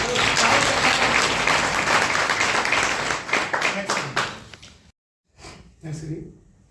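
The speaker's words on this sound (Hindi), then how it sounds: "तो जोरदार ताली हमारे।" A crowd at a business plan seminar breaks into loud, sustained applause that thins into scattered claps, cuts off briefly, then returns as a short burst of clapping with voices mixed in.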